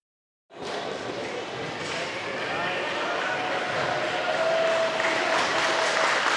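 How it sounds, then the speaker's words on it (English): Crowd clapping at a girls' regional basketball tournament game between McCreary Central and Danville, a dense steady wash of applause that starts abruptly and swells slightly louder toward the end, with no talk over it. "We're getting a lot of claps here."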